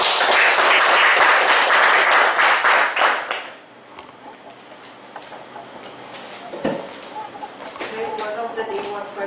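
Audience applause at a speakers' forum meeting, a dense burst of many hands clapping that fills the first few seconds, then fades into a quieter room with scattered claps and low murmur.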